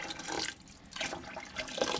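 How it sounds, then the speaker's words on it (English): Water poured into a pot of hot dog chili sauce on the stove, an uneven splashing pour in three bursts with brief pauses, fairly soft and close. "add the rest of that water."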